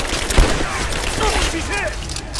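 Rapid gunfire in the video game Rise of the Tomb Raider, a dense crackling burst of shots with one sharper report early on, mixed with shouted voices over a continuous combat din.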